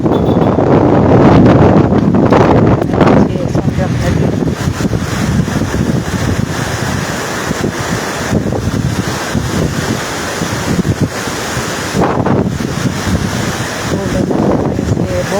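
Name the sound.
heavy rain and wind by the river at Bhavnath, Junagadh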